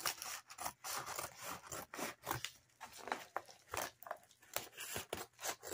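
Cutting across reused packaging material to form a pouch, a close, rhythmic series of rasping, sawing strokes with short pauses between them, heard alone without talk.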